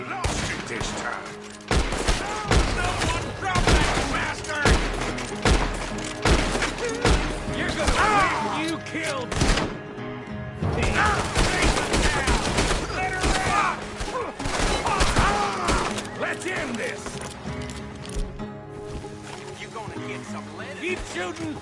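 Rapid, heavy gunfire in a Red Dead Redemption 2 town shootout rings out as dense volleys of sharp cracks, almost nonstop and close, with shouted voices mixed into the fight.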